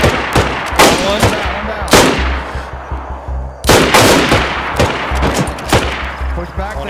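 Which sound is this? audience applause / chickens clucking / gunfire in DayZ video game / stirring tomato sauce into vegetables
gunfire in DayZ video game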